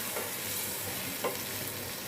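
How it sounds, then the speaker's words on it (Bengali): Prawns and garlic in spiced masala being stirred in a frying pan, a quiet, even hiss of frying with a few soft scraping touches and no talk. "তো এখন দিয়ে নাড়াচাড়া দিয়ে নিচ্ছি"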